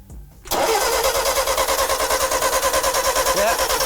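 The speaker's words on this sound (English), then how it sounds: "But we do want to get it started." A car engine cranks briefly during an engine swap, then catches and runs with a steady, loud, pulsing idle.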